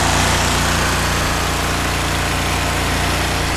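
A Cub Cadet 1641 garden tractor engine idling low with the choke on, a steady loud rumbling drone that holds unchanged throughout.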